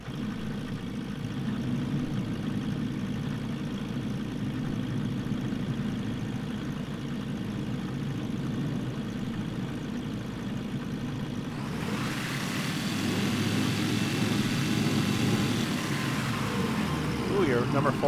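Engines of a four-engine airliner drone steadily in Microsoft Flight Simulator during a flight out of St Barth's, a low constant rumble that swells into a louder, brighter roar near the end.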